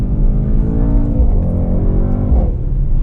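A 2019 Mercedes-Benz AMG GT 4-Door pulls hard in second gear, its engine a loud, steady, close-up roar with a rising pitch that dips briefly near the end.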